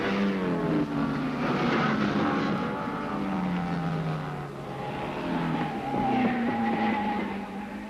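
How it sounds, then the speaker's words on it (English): Racing engines at Le Mans, a Gurney/Bondurant Cobra holding off pursuing Ferrari GTOs, roar continuously with rising and falling pitch sweeps as cars pass, loud and dense with no talk. "battle royal with the lone Gurney Bondurant Cobra number 5 holding off the pursuing Ferrari GTOs"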